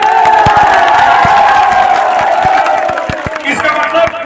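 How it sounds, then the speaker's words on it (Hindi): At a nautanki dance competition held at a fair, the audience claps and cheers loudly, with sharp individual claps over a roaring crowd that thins out toward the end. "आप लोग तालियां स्वागत से बजाइए।"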